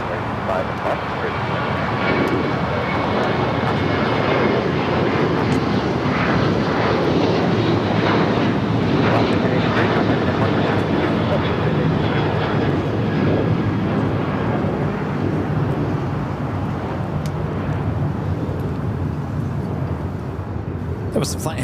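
A seven-year-old Boeing 737-900ER jet on its takeoff roll at LAX, a broad, loud engine roar swelling and then easing as it climbs away, with voices talking over it.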